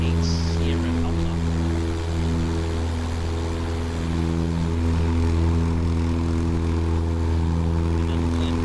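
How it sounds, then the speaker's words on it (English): A propeller aircraft engine drones in a flight simulator on a flight from Little Rock to Berryville, Arkansas. The hum is constant and loud, with steady tonal layers and no clear rise or fade. "Another plane above us as well."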